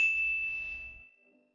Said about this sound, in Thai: ก่อนจะไปดูรบกวนช่วยกดติดตามและกดกระดิ่งกันไว้ด้วยนะคะ